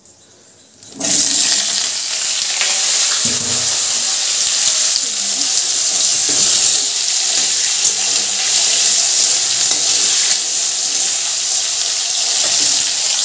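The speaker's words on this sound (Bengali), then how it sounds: "এর মধ্যে আমি এবার এই কুচানো আলুগুলো এর মধ্যে দিয়ে দেবো।" Chopped potatoes drop into hot spiced oil and set off a sudden loud sizzle that keeps up as a steady hiss of frying, close by, with someone talking in Bengali over it.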